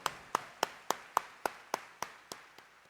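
About ten sharp, evenly spaced claps ring out in a church during a New Year's Day Mass for Jesus Nazareno, slowing slightly and fading toward the end, with no voices.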